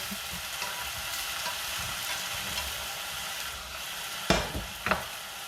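Aubergines fry in a pan with a soft, steady sizzle, broken near the end by two sharp clatters of a utensil against the pan.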